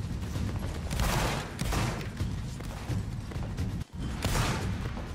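Gunfire rattles in a line-battle video game, overlapping shots in dense bursts with a brief pause near the end before more firing, steady and moderately loud.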